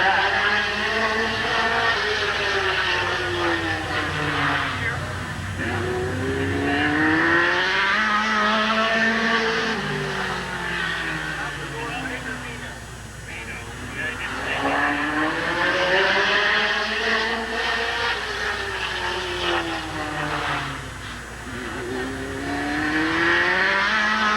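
Race car number 301 circling Midvale Speedway in 1988, its engine note rising and falling in long repeated sweeps as it passes around the oval, loud and continuous, with a faint voice underneath.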